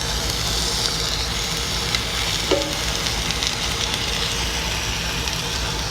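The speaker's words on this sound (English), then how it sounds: "We're gonna sear them until they are golden brown on each side" Chicken breasts searing in a hot pan give off a steady, loud sizzle and hiss throughout, with only faint ticks and pops above the continuous frying noise.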